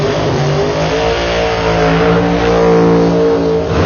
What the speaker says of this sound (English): look at that race car, man. 978 cubic inches coming to life for Ron Miller Power on the left-hand side of the racetrack